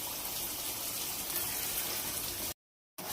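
Water pours into a cooking pot holding a mutton and bagara rice base of ginger-garlic paste, curry leaves and mint, a steady close rushing splash that stops abruptly near the end.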